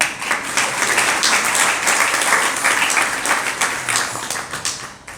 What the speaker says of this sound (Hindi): इस पर ताली महिलाओं ने नहीं बजाई, पता नहीं क्यों। तुम लोग ही बजा दो भैया।